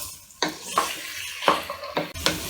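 Cooked mutton pieces being stirred in a hot pan for a pepper fry, with several scraping strokes of a utensil against metal over a steady low sizzle, close and fairly loud.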